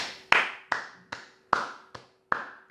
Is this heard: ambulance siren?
no